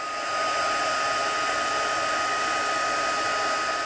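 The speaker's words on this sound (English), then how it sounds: "So I'm just using my heat tool to emboss this gold." A handheld heat tool blows steadily while melting gold embossing powder for papercraft, a close, even fan-like whoosh that starts up and holds constant with no speech.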